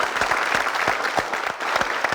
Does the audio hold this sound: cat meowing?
no